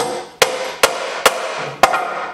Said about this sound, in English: you can use it as a hammer.